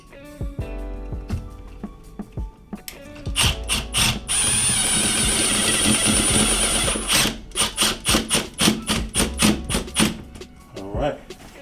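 A power driver sinks a screw into pre-drilled wood while mounting a floating shelf, giving a loud sustained whir, then a series of rapid ratcheting clutch bursts, close up, with faint talk nearby.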